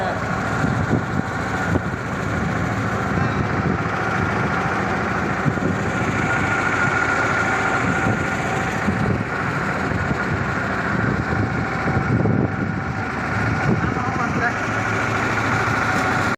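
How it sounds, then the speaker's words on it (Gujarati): A tractor engine runs steadily throughout, a continuous low rumbling drone with people talking over it. "ટ્રેક્ટરનો અવાજ બહુ આવે"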